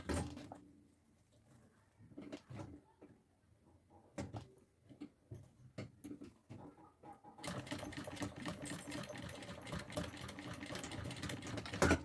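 A sewing machine stitches an executive bag and finishes the seam with a backstitch. Scattered close clicks and knocks of handling come first, then the motor and needle run in a steady, loud, fast rattle to the end, with no talking.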